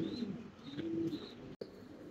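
Fancy pigeons, including a blue barless bird, coo softly at a pigeon farm in a few repeated rolling calls, fairly close and quiet, with no talking.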